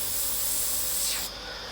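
Airbrush hissing as it sprays paint onto a Senna F1 car model, one short steady close-up burst that cuts off sharply near the end.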